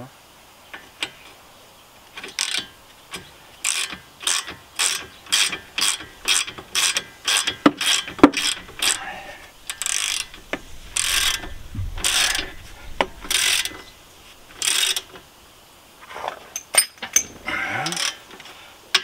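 A ratchet clicks in quick repeated bursts while tightening bolts with a 21 mm socket on the front shock absorbers of a Renault Koleos, close up, with pauses between sets of strokes.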